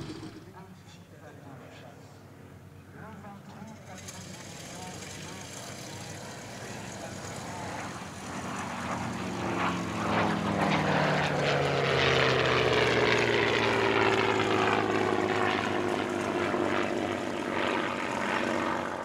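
WWII fighters, a P-47 Thunderbolt and a P-51 Mustang, fly at an airshow at Paris-Villaroche, their propeller engines droning faintly at first, then building into a loud, sweeping pass that holds strong to the end.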